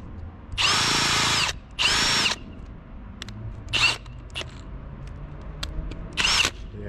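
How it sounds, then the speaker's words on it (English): A power drill driving a wood-splitting bit into a log whines in several bursts, two long runs then shorter ones, with clattering handling noises in the gaps. "Let's try on the drill."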